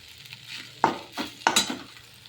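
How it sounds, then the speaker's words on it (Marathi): Cooked rice being fried in a pan, heard as a soft, close sizzle with two distinct scraping strokes of a spatula and a few lighter stirs, with no talk. "मस्त भात फ्राय करून घेतलाय बघा."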